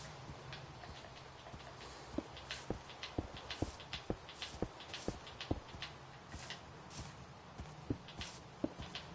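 Horse hooves in Minecraft clip-clopping in a steady, irregular walking rhythm of sharp taps over a faint background.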